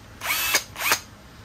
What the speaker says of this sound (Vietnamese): kế tiếp là một cái con khoan Hitachi. Khoan có búa ha.